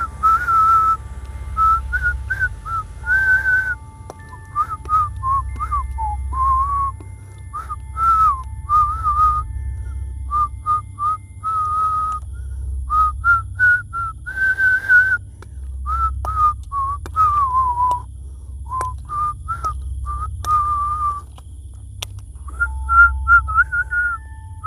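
Someone whistles a wandering melody in short phrases, close and clear, over a low steady background hum.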